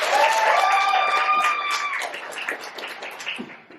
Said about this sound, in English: A round of applause for Justin.